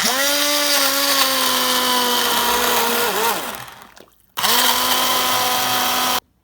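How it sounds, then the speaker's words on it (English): A blender blitzing tomato soup roars steadily and loudly at a high whine for about three seconds, winds down and cuts out, then starts again at full speed before stopping abruptly. "And now, we just need to give it a good blitz."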